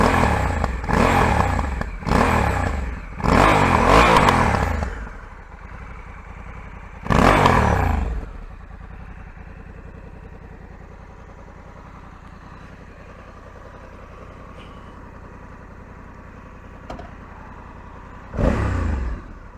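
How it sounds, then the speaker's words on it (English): A 2020 Honda Africa Twin DCT motorcycle engine revs hard in a quick series of loud bursts, settles into a low idle, then gives two more single revs later on. There is no talking. "It's the raw sound of the bike."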